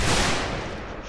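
A short, loud blast of gunfire from a war video game, a dense noisy burst that fades over about a second.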